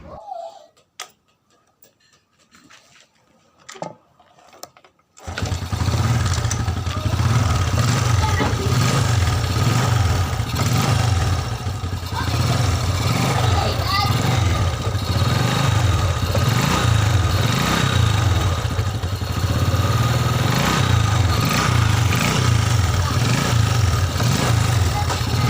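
Small Filipino underbone motorcycle, SYM Bonus, Honda XRM110 or Wave100, running without a battery: after a few seconds of quiet clicks and handling, the engine fires and settles into a loud, steady idle with a rhythmic ticking pulse.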